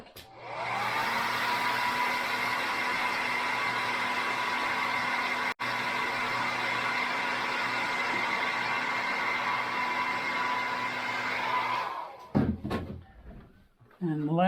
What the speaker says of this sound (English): okay, hit it again with the dryer.